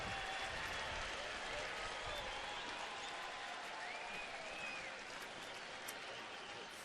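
Hometown baseball crowd at Cleveland applauding and cheering for the pitcher during a Boston at Cleveland game, a faint, distant, steady wash of clapping and cheers that slowly tapers off.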